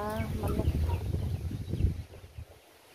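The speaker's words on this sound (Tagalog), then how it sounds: "Yung mga manok." Chickens clucking in short bursts close by, with some background chatter and rustling; the sounds fade out toward the end.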